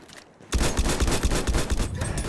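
Dense gunfire in Battlefield 1 in a Sinai Desert match breaks in suddenly after a brief quiet moment and keeps up as a loud, rapid, continuous automatic burst with overlapping shots, no talk over it.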